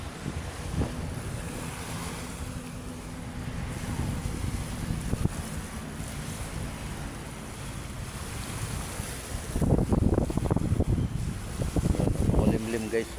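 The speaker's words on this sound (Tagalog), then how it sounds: "lumalakas na yung ating hangin" Strong wind gusts over Manila Bay, with a steady broadband roar of wind buffeting the microphone and surf washing below it, growing louder and rougher in the last few seconds.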